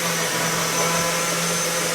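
A high-power 4.5 horsepower blender runs steadily at full speed, a loud, dense whirring roar that holds level throughout with no voices.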